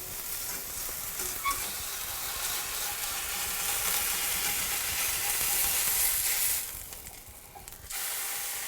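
A smash burger sizzling loudly on a hot pan as a fish spatula scrapes under it and flips it, a close, dense hiss that briefly drops after the turn, then resumes.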